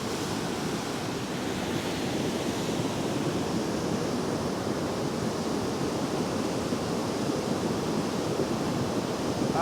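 A debris flow torrent at Saint-Julien-Montdenis surges in a steady, loud, broadband roar of rushing water and churning material, continuous and close with no pauses, swelling slightly as another wave arrives.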